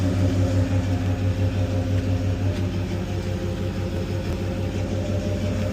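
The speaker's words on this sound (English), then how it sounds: "just how quiet this engine is from up here" Big block V8 in a Ford Bronco idling steadily with its exhaust closed up, a low, even rumble heard alone and continuous throughout.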